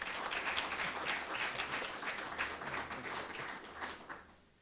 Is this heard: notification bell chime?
no